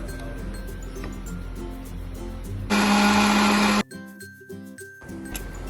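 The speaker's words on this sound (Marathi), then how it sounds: "आता हा आपण मिक्सरमध्ये बारीक करून घ्यायचा आहे" A mixer grinder whirs loudly for about a second, grinding a spice paste of roasted onion and water, then cuts off abruptly against a low background hum.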